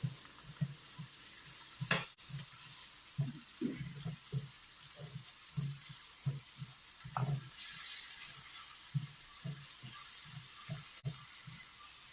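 Chopped vegetables for a stuffed capsicum dish sauté in a pan. Soft sizzling runs under regular, close scraping strokes of the spoon, each a short burst, repeating at an even pace with no voices.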